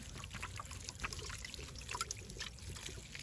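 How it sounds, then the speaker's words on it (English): A watering jug pours water onto freshly replanted salvia in a garden, a soft, steady trickle and splash that stays faint and close for the whole stretch, with no talking. "Got my watering jug, so I need to water in the salvia that I just replanted."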